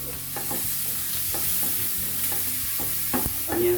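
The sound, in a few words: onion frying in butter in a pan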